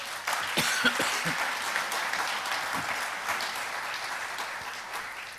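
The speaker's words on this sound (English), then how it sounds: "Please give him a round of applause" Steady applause from a conference audience fills the whole stretch, a dense wash of clapping with a few coughs scattered through it.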